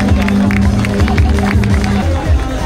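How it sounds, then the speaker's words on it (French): Spectators clap and cheer for the men's 9 km podium at the Trail de la Montliardaise 2024, a loud close burst of applause with chatter and a voice over it. "Et on peut applaudir le podium masculin de ce 9 km."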